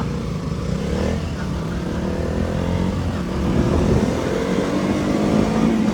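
A motorcycle engine runs steadily close by, its rumble rising slightly toward the end, with no voices over it.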